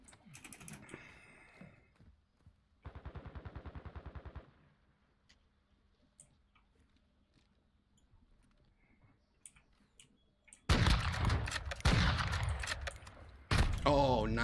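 Automatic gunfire bursts in a Modern Warfare 2 Gun Game match, a short rattling volley early on, then loud clustered shots near the end, with players talking over headsets in between.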